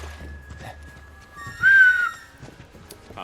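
A person tries to whistle, producing a single brief airy, wavering tone that rises and falls over under a second, alone over quiet game sounds.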